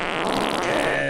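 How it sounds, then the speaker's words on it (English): A fart machine lets out a sustained buzzing, rasping fart sound at close range, lasting a little over a second. "We got a lot of requests for the fart machine."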